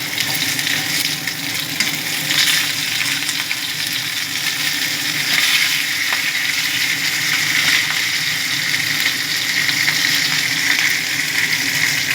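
Fish fries in hot oil in a pan, a loud, continuous crackling sizzle with steady bubbling that carries on evenly, with no talk over it.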